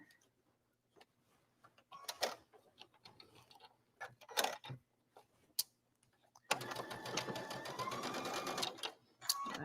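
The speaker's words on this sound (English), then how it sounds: "go back to the sewing machine" A home sewing machine stitching fabric, first in short intermittent bursts and then in a long steady run of rapid stitching, with no talk over it.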